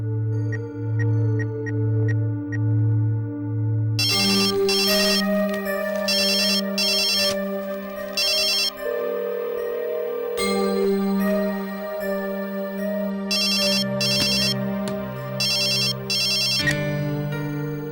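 A telephone ringtone rings loudly and steadily, starting as a low repeating tone and then switching to a bright, chiming electronic melody that loops without pause, with no voices.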